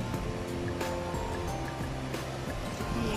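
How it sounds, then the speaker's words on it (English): A garden waterfall in Samoa rushes in a steady broadband wash of falling water, constant and close, with a few scattered splashy bursts and no voices. "You can see the waterfall there."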